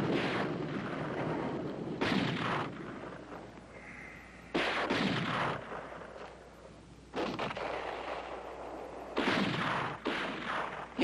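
Guns firing in a 1970 Disney film, Menace on the Mountain: four heavy, booming volleys spaced a few seconds apart, each a sharp loud blast followed by a rolling, decaying rumble.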